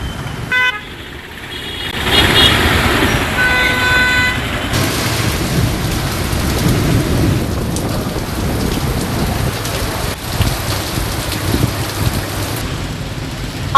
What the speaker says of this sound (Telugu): పొన్నూరు, పిడుగురాళ్లలో ఉరుములు, మెరుపులతో ఒక రేంజ్ లో వర్షం పడింది.